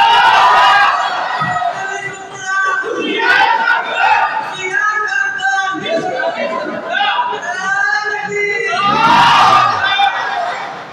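A large crowd at a religious gathering shouts back in unison in response to a chant call, loud, with voices swelling in several bursts and a big surge at the end.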